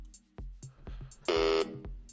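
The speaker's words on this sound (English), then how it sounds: "The buzzer's about to go" A trivia game buzzer sounds once as a short, bright electronic buzz in the middle of a quiet stretch, surrounded by a few soft taps and knocks nearby.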